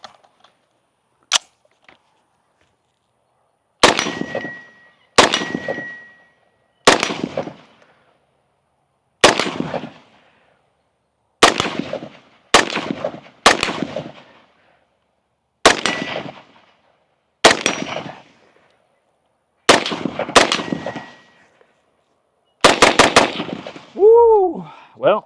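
A SIG MCX Spear LT rifle, worn after 5,000 rounds, fires loud, sharp shots outdoors, single reports and quick doubles spaced every second or two, each ringing out with an echo.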